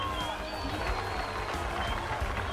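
A crowd in the video game Stellaris claps and cheers in a thick, continuous burst, with a low rumble and some tonal sound mixed in beneath.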